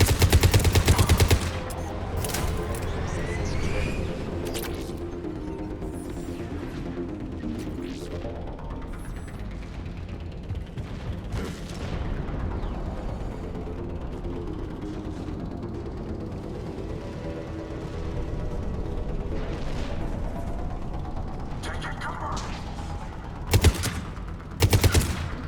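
Mortar and gunfire in Mass Effect 3 battle, scattered rapid shots and mechanical clatter over a droning, sweeping background hum, with loud bursts and impacts near the beginning and end.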